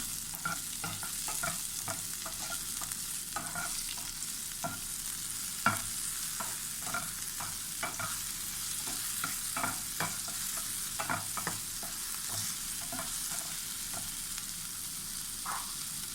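Chili and garlic stir-fried in a pan for a Thai mackerel dish, with a steady sizzle and repeated scraping stirs of the utensil throughout.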